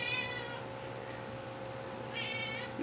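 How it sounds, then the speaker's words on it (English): A cat meows twice, near and clear, once at the start and again near the end, over a quiet room hum. "my cat is getting very vocal about it."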